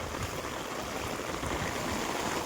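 Rainwater flows across a terrace after heavy monsoon rain. A continuous, even rush of running water sounds close and fairly loud, with no talking.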